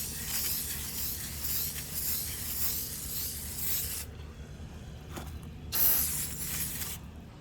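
Aerosol coil cleaner hisses in long, loud, close bursts as it is sprayed onto the coils of an HVAC unit, with a brief pause before a final spray.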